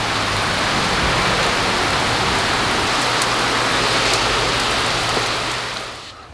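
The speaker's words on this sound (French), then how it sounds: "Une seconde avant, il pleuvait pas. Là, c'est le déluge" Heavy tropical downpour during the Costa Rican rainy season, a dense, loud, steady roar of rain hammering surfaces that holds constant before easing off in the final second.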